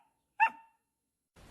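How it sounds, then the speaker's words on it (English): A single sharp dog bark rings out clearly, followed by a faint rustle, with no talk over it. "Stop barking at me."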